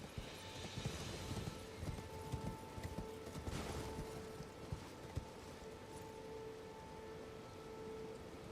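Horse hooves clop in a quick, uneven rhythm while riding in the video game Elden Ring, soft and steady beneath a hiss like rain.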